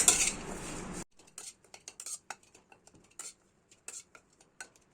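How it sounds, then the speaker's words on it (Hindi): Mawa milk solids are dry-roasted without ghee in a kadhai over a low flame: a brief rush of noise, then a spoon scraping and clinking against the pan in short, irregular strokes. "एक कटोरी मावा है, इसे मैं भूनूंगी इसी कढ़ाई में ही, बिना घी के या कोई भी ऑयल डाले हुए।"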